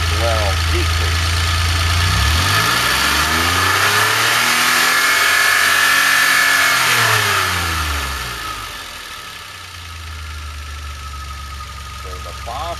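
A DeLorean engine with a Duraspark ignition module revs up loudly from idle, its pitch climbing and holding before dropping back to a steady idle; close and dominant throughout.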